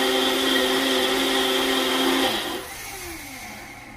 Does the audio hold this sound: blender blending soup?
yes